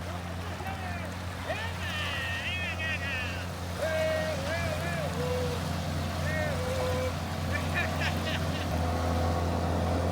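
A hired motorboat cruises a Gold Coast waterway, its steady low engine drone running throughout alongside water noise, while people chat and shout over it.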